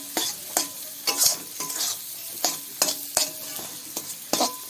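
Bombay duck (loitta) fish being stirred in a frying pan: repeated scraping strokes of a spatula come at a steady rhythm over a constant close sizzle as the fish dries in the pan.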